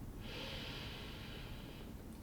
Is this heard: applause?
no